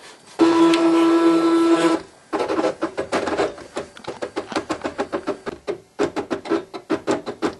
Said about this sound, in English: the Cricut will go ahead and start drawing.